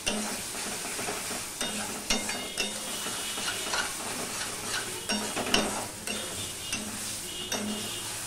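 Taro greens (kochu shak) fry in a pan while a utensil stirs them constantly to dry off the water, giving a soft steady sizzle under rhythmic scraping and clinks against the metal, with no speech.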